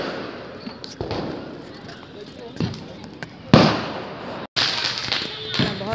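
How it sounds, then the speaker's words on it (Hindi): Diwali firecrackers pop and bang at irregular intervals across a housing society, some sharp and loud, others distant, while a person talks over the noise. "देखिए सोसाइटी में कितने पटाखे जला रहे हैं लोग"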